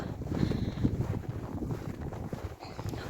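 Gusty winter wind blowing snow across paths buffets a microphone, a low, uneven rumble that rises and dips for a few seconds with no voices.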